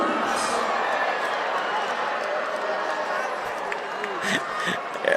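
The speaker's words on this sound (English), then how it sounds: "the whole crowd just reacted as the Lyman wrestler jumped up" Crowd at a Wyoming state high school wrestling match reacts in a broad, continuous murmur and rumble of many voices, fairly distant, with a few sharper shouts and scuffs near the end.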